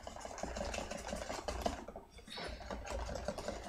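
A whisk beats peanut butter and banana together in a bowl, giving a steady, busy run of quick scraping clicks and taps with a brief pause midway, close and moderately loud.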